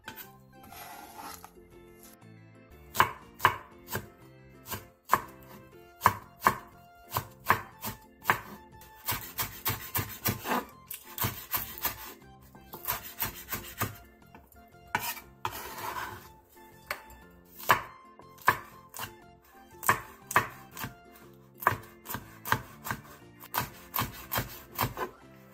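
Irregular sharp knife chops slice onion, green onion and chili peppers on a cutting board, quick runs of close, crisp taps broken by short pauses, with no talking.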